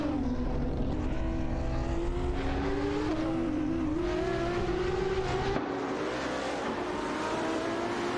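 Race car engines in an AI racing video game, with a loud, close engine whine that climbs steadily in pitch as it accelerates, shifts and revs, then drops back under a continuous roar.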